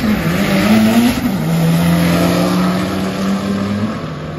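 A four-cylinder EcoBoost Ford Mustang with an MT82 manual and a Hemi Challenger rev at the start of a drag race, a loud, close engine drone that rises, dips as a gear changes, then climbs and holds.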